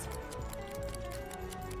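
Ashe reloading her lever-action rifle in the video game Overwatch, heard as a quick, evenly spaced run of sharp metallic clicks over a steady, humming game backdrop, moderately quiet throughout.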